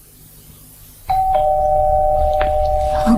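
A doorbell rings once at close range in a quiet domestic room, a single sustained electric chime that starts abruptly and holds steady, with faint low room rumble beneath and no talking.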